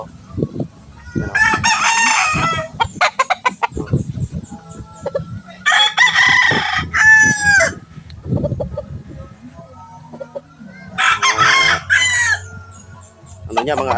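Roosters of a fine breed crow loudly several times in bursts, with hens clucking and scratching sounds between the calls close by.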